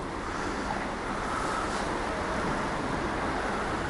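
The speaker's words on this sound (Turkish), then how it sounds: "Bakın buradan su akıyor." Water flowing in a park stream, a steady, broad rushing wash that holds at an even level throughout, close and fairly loud with some wind noise.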